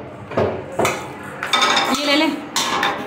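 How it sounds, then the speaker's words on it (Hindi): Metal pots and utensils clink and clatter in several bursts as they are set up onto high kitchen shelves in a freshly cleaned kitchen, close and fairly loud, with some background voices. "ये बर्तन ज़रा सेट कर दें ऊपर"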